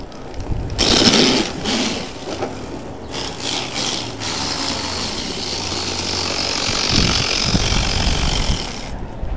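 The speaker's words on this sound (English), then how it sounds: "Pinion going crazy fast. Oh, there it goes, it caught some gears." A brushless Redcat Everest 10 RC truck whirs as its pinion spins very fast, with loud, close, mechanical grinding and ratcheting bursts as the gears catch, then a steadier whine.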